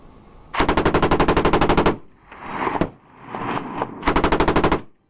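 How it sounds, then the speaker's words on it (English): M240B machine gun in a film battle scene firing two long, rapid bursts, loud and close, separated by a pause of rumbling ambience and distant noise. "What kind of merc wouldn't know how loud a 240 Bravo is?"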